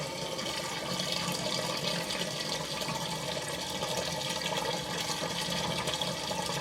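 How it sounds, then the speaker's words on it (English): Water draining from a washing machine through its drain pipe, a steady rushing, gargling flow heard alone at a fairly low level throughout. "Perfect gargle is what we're looking for"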